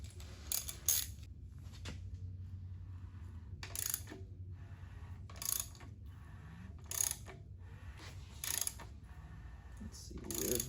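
A ratchet clicks in short repeated bursts while a BMW M52B30 engine's crankshaft is turned over by hand, each burst spaced a second or two apart over a quiet background.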